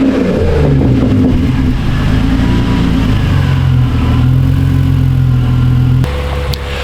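A BMW E46 330Ci with a pop-and-burble tune runs through an M3 exhaust, a loud, close, throaty engine rumble with shifting revs and a crackle near the end.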